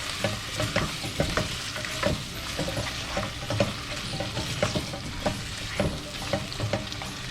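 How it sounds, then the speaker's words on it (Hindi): Ginger garlic paste sizzling and frying in a pan, with a spoon scraping and stirring in irregular bursts over a continuous crackle. "इसको अच्छी तरीके से 2 मिनट भूनना है।"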